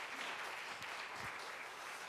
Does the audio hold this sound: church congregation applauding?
yes